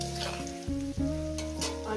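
Food frying in a pan for a couple of minutes during home cooking, a steady sizzle layered under strong sustained tonal background sounds that shift pitch a few times.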